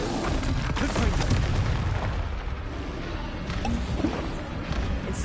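Confringo blasting-curse explosions in Hogwarts Legacy on PS5, a dense run of heavy booms and crackling bursts over a continuous rumble, loud and close.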